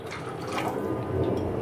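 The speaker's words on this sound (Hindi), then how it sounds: "थोड़ा सा पानी और डाल देते हैं।" Water is poured into a simmering lauki kofta curry gravy. It makes a short, steady splashing trickle at moderate loudness, with no talk over it.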